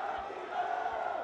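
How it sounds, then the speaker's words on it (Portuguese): Home supporters at Moça Bonita stadium cheer after their side wins an amateur under-17 final on penalties, a steady, dense wall of crowd roar and shouting held at an even level throughout. "Para a festa da torcida presente aqui no estádio de Moça Bonita."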